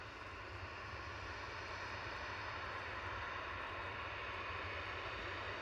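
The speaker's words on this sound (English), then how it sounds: "arrival is going to be Aegean, coming from Athens. Flight 3638 A320 Neo SX NEV." An Aegean Airbus A320neo jet arriving from Athens gives a constant, faint broadband engine roar and rumble that stays even throughout, heard from a distance at the airport.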